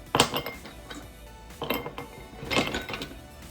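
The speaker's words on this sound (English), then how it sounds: "We're gonna add a few ice cubes to that." Ice cubes drop into a mason jar glass for a margarita in three separate bursts of hard clinks and rattles, close and fairly crisp, with no talking.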